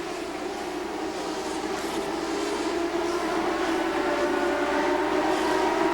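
CART race cars at Mid-Ohio during the 2000 season scream past on the track, a sustained high-pitched engine whine that swells slightly as the field goes by, with no voices heard.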